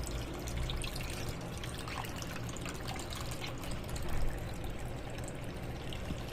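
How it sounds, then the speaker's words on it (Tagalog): Evaporated milk is poured from a can over mashed mango in a bowl, a steady liquid trickle and splash heard close up without a break. "So, lagay na natin yung evap."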